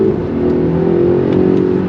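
A 619 hp 2021 Polestar 1 hybrid accelerating hard, a steady, loud, close whirring drone with a smooth rising electric-motor tone and no gear breaks.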